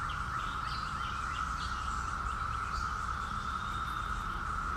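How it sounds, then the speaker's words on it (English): Birds chirp and tweet intermittently in a suburban setting, their calls riding over a steady, droning buzz of cicadas that persists throughout. "behind the chirping of the birds and other suburban noises"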